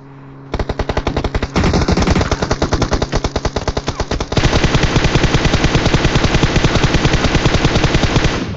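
Rapid automatic gunfire in a squad battle royale video game, loud and continuous, with dense bursts of shots for over eight seconds and a louder, heavier stream in the second half.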